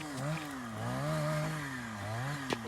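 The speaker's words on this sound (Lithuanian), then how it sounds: "atleiskite, jeigu ne kaip girdžiuos, kažkas pjauna medžius" A chainsaw cuts trees in the distance near a frozen lake during ice fishing, its engine droning steadily and rising and falling in pitch at low volume with no voices.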